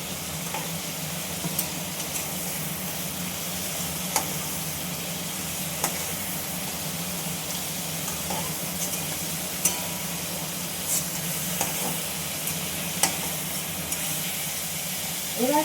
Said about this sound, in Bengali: চিংড়ি মাছগুলো আমার সাঁতলানো হয়ে গেছে